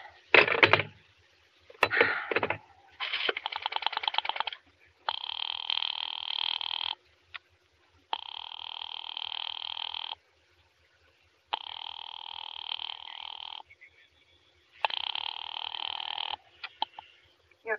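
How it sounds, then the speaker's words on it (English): In an old-time radio drama, a telephone effect plays as repeated long electronic tone bursts separated by short silences, preceded by a few sharp clicks, fairly loud and alone with no voices. "Operator, I've been dialing Murray Hill 70093 now for the last 3/4 of an hour, and the line is always busy"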